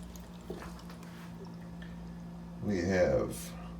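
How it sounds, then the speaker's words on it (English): Hot and cold tap water runs from a bathroom sink in a Holiday Inn Express & Suites hotel room, a steady hiss swelling in briefly near the end after a quiet stretch with a low hum behind it. "So we have hot and cold running water here at the sink"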